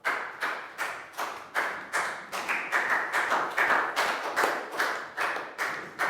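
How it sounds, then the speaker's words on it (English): A small group of young students in a primary-school English class clapping in a steady rhythm, each clap sharp and evenly spaced, continuing for several seconds with no talking. "Big round of applause for Pat."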